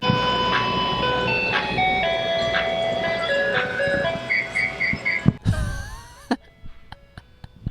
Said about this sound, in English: I don't know if you can hear this ice cream truck go off.